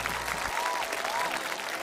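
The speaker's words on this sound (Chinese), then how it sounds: "好，来，掌声有请李明泽的妈妈。" Studio audience applause at a televised Chinese variety show rises briefly as a guest is invited onstage, a short burst of clapping with a faint voice or tone heard alongside.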